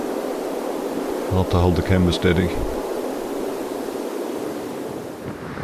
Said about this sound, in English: Quite windy on top here.